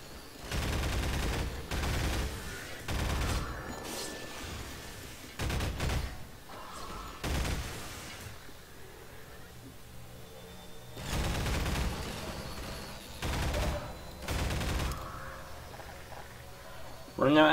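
Video game gunfire in Half-Life 2 comes in repeated bursts of rapid shots with short gaps between volleys, moderately loud, while a player's voice talks quietly in between.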